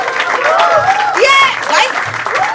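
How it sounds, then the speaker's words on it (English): A studio audience claps and cheers for two guests, with loud excited voices and whoops riding over the applause throughout. "Put your hands together for Avinash Sampath and Vikramaditya Motwane!"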